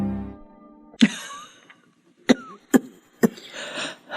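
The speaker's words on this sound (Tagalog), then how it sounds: "Lumalala yata ang ubo mo" A woman named Rosenda coughs in a drama scene, a wet cough that is getting worse: a harsh burst near the start, then three sharp coughs in close succession, with a raspy breathing noise between them.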